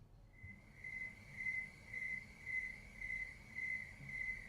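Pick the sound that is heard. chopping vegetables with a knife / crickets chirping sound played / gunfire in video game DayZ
crickets chirping sound played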